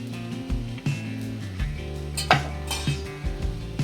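A spoon stirring salt into a potato vada filling in a metal pan, scraping and clinking a few times with short bright knocks against the pan, close and alone.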